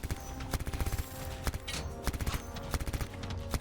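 Rapid bursts of enemy gunfire in the sci-fi shooter Anthem, sharp repeated cracks and short volleys spread across the whole moment, loud and close over a steady game soundscape with music.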